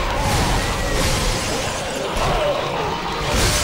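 Weakened glass shatters and crashes in Dead Space 2, a dense, loud burst of breaking noise filling several seconds without speech.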